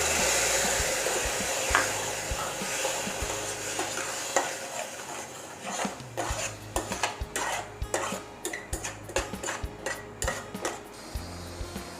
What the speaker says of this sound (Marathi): मी आता याच्यात टोमॅटोची प्युरी टाकते.